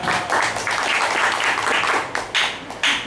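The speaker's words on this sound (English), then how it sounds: "Give applause for our teacher." An audience applauds teachers at a school public-speaking event with dense, steady clapping that swells, dips briefly and resumes in short bursts near the end, with no talk over it.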